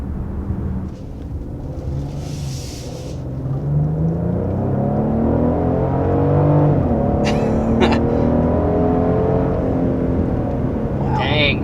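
A 2022 Genesis GV70 luxury SUV revs and accelerates hard, rising steadily in pitch and loudness, with a steady road roar beneath.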